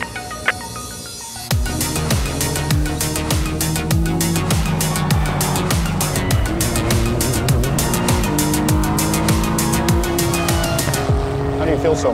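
Acura race car, an ARX-05 DPi prototype or NSX GT3 Evo, fired up and driven on a lap at Sebring. After a brief quiet start the engine roars loud and close, climbing and dropping through repeated upshifts and downshifts, with occasional tire noise.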